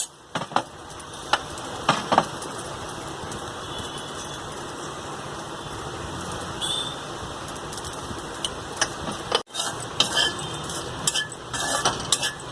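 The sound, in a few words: okra (bhindi) frying and being stirred in pan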